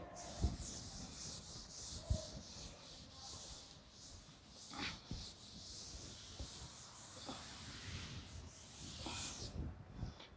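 A cloth or duster rubs writing off a classroom board during a math lesson. The hissing scrubs carry on steadily for several seconds, faint and close, with a few soft knocks and quiet voices in the room.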